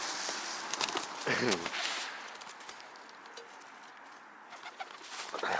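Pigeons coo outdoors as they are fed, low throaty calls rising near the middle amid rustling and faint movement noise, with occasional louder bursts.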